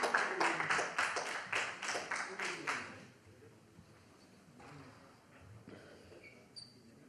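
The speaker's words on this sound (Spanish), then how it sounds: "Un aplauso para Jack Flatley" Brisk applause for boxer Jack Flatley at a pre-fight weigh-in, a dense burst of claps lasting about three seconds before dying away into quiet room noise.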